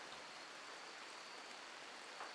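Steady, even hiss of falling rain in the colony game Rimworld, a soft continuous wash of noise with no talking.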